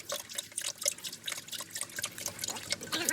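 Transfer case fluid from an NP241 pours and splashes out of the drain hole in a steady close trickle with irregular drips, fairly quiet and with no talking.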